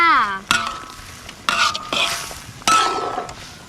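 Dry toasted rice grains scraped and stirred around a hot pan in a few strokes, with sizzling and metal clinks between, plus a brief voice-like tone at the start.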